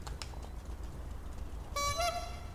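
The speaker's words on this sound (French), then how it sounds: "Klaxonne si tu l'as fait." Car horn honking in the video game GTA 5 during a motorbike parkour session, a couple of sustained toots arriving late over a steady low game rumble.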